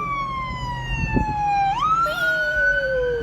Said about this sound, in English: that's a very loud siren behind me